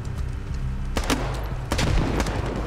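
Sniper gunfire in a first-person shooter match, with two or three sharp loud cracks standing out against a steady rumble of battlefield noise.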